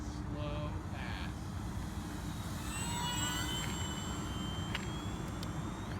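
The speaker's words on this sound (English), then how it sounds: "Full landing flaps on. We're going to bleed off some speed, bring it for a slow pass." A Horizon Hobby P-51D Blondie RC model warbird, 1.2 m span with a 13x6.5 prop, makes a slow pass with full landing flaps at night, its steady motor drone holding evenly throughout under faint outdoor noise.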